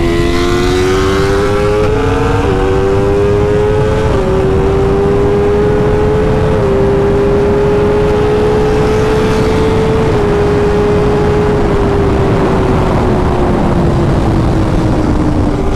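BMW S1000RR motorcycle with a tuning flash, accelerating hard through quickshifter gear changes, its loud engine note rising in pitch and dropping briefly at each shift in a rapid sequence.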